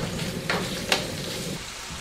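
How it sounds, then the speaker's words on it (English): Chopped wild pork kransky sizzles in olive oil in a flat-bottomed pan, a soft steady crackle close by, with a couple of sharper pops near the start. "Fair whack of olive oil, and in go the chopped kransky."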